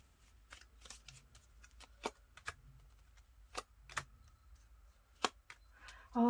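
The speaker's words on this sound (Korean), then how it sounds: "추가 카드 한번 뽑아 볼게요" Tarot cards being shuffled before an extra card is drawn: soft, quiet riffling and scattered crisp ticks and snaps spread over several seconds, with a louder rustle at the very end and no voice.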